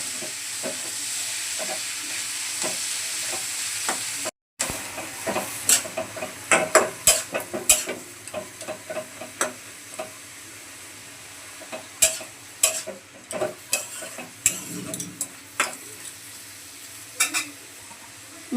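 Ridge gourd with salt and turmeric is stirred in a hot pan, a steady sizzle of frying under repeated sharp scrapes and knocks of the spatula, close and fairly loud after a brief gap near the start.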